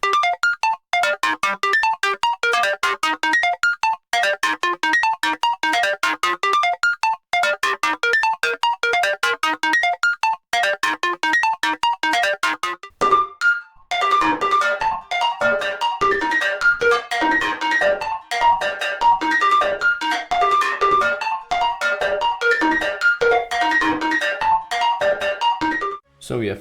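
A bright, plucky synth melody plays in a steady repeating pattern, first plain and choppy, then fuller and smoother with an added effect.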